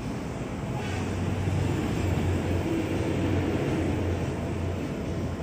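A KRL commuter electric train rolls past at night near Pasar Senen, a steady loud rumble with wheel noise and a low electric hum, heavy wind-like rush throughout.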